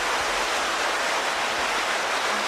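Steady, dense rush of water flowing through a stone tunnel, a loud broadband roar that stays even throughout with no voices.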